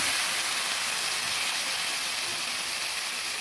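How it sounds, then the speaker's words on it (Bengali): Water poured onto spices in a hot pan with pumpkin and drumstick cooking, giving a loud, steady sizzling hiss that holds constant, close and alone. "মশলাগুলো মেশানোর জন্য একটু জল দিয়ে দিচ্ছি।"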